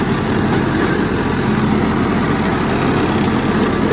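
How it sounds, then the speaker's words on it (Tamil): A Mahindra Yuvo Tech 585 50 HP tractor engine runs loud and close, a steady low diesel rumble with no change in pace and no talking over it. "மஹிந்திரா யுவோடெக் 585 50 HP வண்டிங்க இது."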